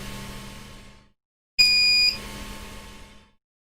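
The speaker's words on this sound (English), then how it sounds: "Got a beep to say heating done." Ender 5 Pro 3D printer gives a single sharp electronic beep, about half a second long, to signal the heated bed has reached temperature, loud and close after a brief hush in the fan hum.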